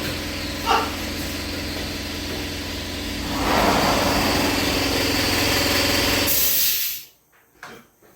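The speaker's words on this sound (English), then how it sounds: "And of course the air compressor can kick on." An air compressor in a cold garage starts up, its motor swelling into a loud, steady droning hum that holds for a few seconds before cutting off abruptly into near silence.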